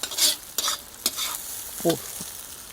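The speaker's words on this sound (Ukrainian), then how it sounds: "поки смажиться свинина" Intermittent sizzling and scraping as pork fries in a pan, with a few stirring clatters and a short metallic ring, fairly close.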